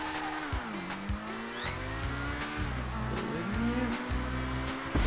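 Engine of a car in the game GTA on a ramp challenge, a loud steady drone that rises and falls as it shifts and accelerates, running continuously without talk.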